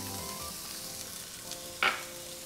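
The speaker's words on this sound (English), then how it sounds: "now once our oil is hot, we're going to add 1/2 of our onion." Finely chopped onion sizzles in hot olive oil in a small frying pan, a steady soft crackle with one sharper clatter near the end and no voices.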